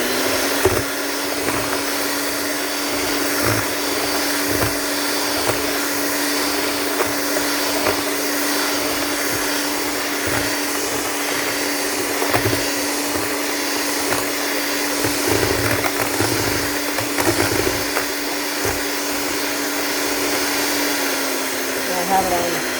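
An electric mixer whirs steadily through cake batter of milk, vanilla and other liquids, a continuous motor drone with a constant pitch and faint rattling, loud and unbroken over about twenty seconds.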